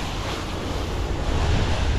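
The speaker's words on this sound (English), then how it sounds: "It's a little bit windy." Wind buffets the microphone outdoors during pressure washing of a house, a steady, loud broadband rumble that swells slightly toward the end, with no voices.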